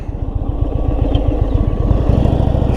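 A 2022 Indian Super Chief motorcycle runs while riding, a loud, close, rhythmic V-twin engine throb with a rapid low pulsing beat, steady throughout and without speech.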